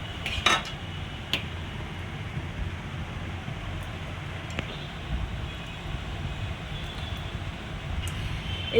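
Prawn malai curry being transferred into a serving bowl, with a few sharp, scattered clinks of utensil against dish over a low, steady kitchen hum.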